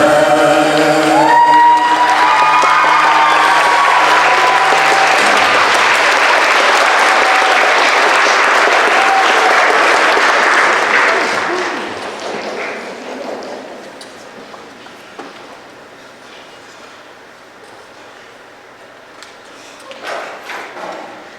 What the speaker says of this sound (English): Can we please give a big applause to our fantastic speakers and dancers?